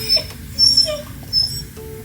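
A puppy at home whimpers close by in three short, thin, high-pitched whines spaced apart, with no one talking.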